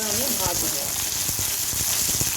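Chopped tomato and chili fry in a pan with a loud, dense hissing sizzle, close up and steady, with a brief voice heard at the start.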